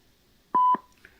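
A single voicemail recording tone, a steady pure beep lasting about a quarter second, sounding clearly on a quiet phone line with a faint click just after.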